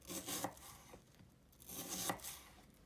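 A knife slicing through an onion on a cutting board in a home kitchen, two short bursts of crisp chopping strokes separated by a brief pause, close and fairly quiet.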